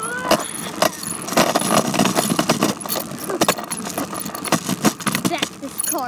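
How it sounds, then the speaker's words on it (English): A car reversing into a parking spot, engine running under a busy clatter of keys jangling and handling noise close by, with a person talking over it. "Back this car up into here."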